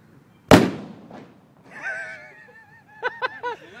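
Cheap fireworks set off outdoors in a Sri Lankan garden give one sharp, loud close bang, followed by a whistling screech and a quick run of three popping bursts.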